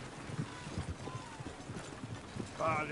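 Rhythmic horse hoof clip-clops under voices and background noise, with a brief higher whinny-like sound near the end, in the video game Red Dead.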